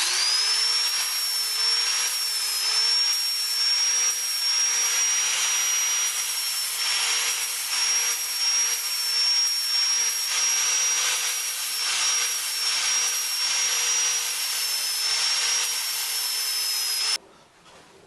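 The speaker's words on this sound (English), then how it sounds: "We'll finish up the shaping just using sandpaper." Sandpaper rubbing steadily over a kitchen knife being shaped from an old saw blade, a loud continuous abrasive hiss that runs unbroken for about seventeen seconds before stopping abruptly.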